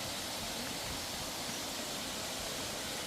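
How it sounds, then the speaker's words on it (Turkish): Kurşunlu waterfall in Turkey, a dense, unbroken rush of falling water heard close, with a steady hiss and no talking. "İşte muhteşem doğasıyla Kurşunlu Şelalesi."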